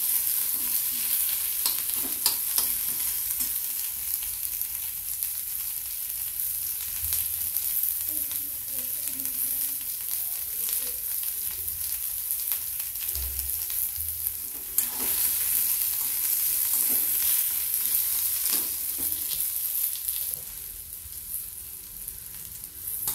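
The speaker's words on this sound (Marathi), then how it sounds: "कांद्याचा छान फ्राय करून घेतला आपण।" Onion frying in oil while being stirred for a turichya dana bhaji, a steady bright sizzle with repeated scraping and clinks of the spoon against the pan, close and constant, easing slightly toward the end, no speech.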